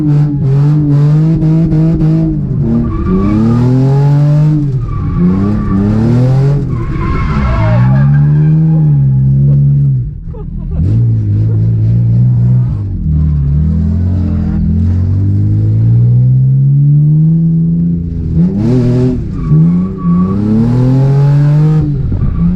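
A drifting car slides through repeated long tire squeals that rise and fall with engine revving, loud and close, in several sustained bursts with a short lull midway.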